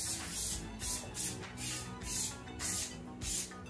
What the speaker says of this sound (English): I've got to spray the tray.